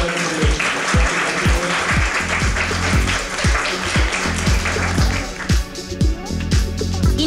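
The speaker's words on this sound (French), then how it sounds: "Allez, on les applaudit juste au début." An audience claps for contestants with a busy round of applause over a thumping beat of background music, the clapping steady and fairly close.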